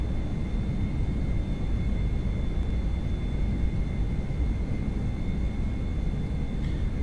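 Airliner reverse thrust on landing in the Prepar3D v4.4 flight simulator, a steady, dense low engine roar with a faint high whine, continuous throughout with no talking.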